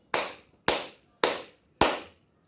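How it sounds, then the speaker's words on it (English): A primary school class claps four crotchet beats together: four crisp, evenly spaced claps, close and loud, with silence between them. "Let's just clap these 4 crotchets"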